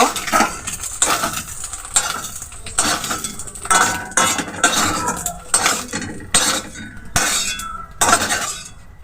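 A fried egg is lifted from a pan with a metal utensil, giving repeated close scrapes and clinks against the pan and plate, with no talking.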